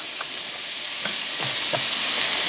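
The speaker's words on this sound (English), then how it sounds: "toss in my onion that I have chopped here and let it start cooking and frying right along with our bacon" Steady sizzling of chopped onion and bacon frying in a hot cast iron pan, with a few soft scraping clicks of stirring scattered through.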